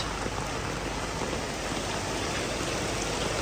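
Steady rain pours on a street in Hanoi, a dense, even hiss of falling water that stays constant and fairly loud throughout, with no voices.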